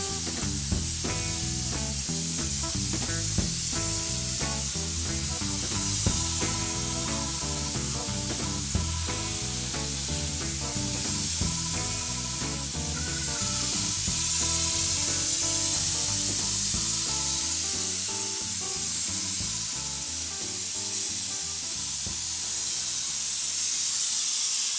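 A spray gun applying waterborne automotive paint gives off a steady, airy hiss that runs continuously beneath louder background music.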